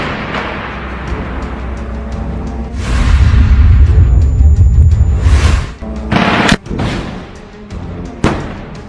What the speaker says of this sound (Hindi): तभी हमास का ये लड़ाका उन पर ये रॉकेट फायर कर देता है